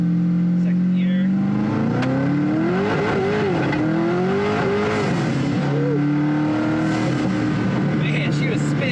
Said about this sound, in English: It's hard to not love that sound and that spool of the turbos.